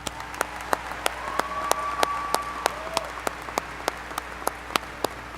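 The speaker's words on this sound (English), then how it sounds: "Let's give them a round of applause." Applause at a 2019 Brookland High School graduation ceremony, with scattered individual claps standing out sharply over a softer crowd, a faint tone sounding through the middle.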